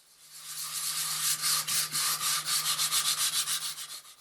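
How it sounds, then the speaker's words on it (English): Sanding a skim-coated wall by hand with 180 grit sandpaper, a close, steady series of rhythmic scratchy strokes that build in pace and continue without talk. "The next step was sanding to achieve a smooth finish."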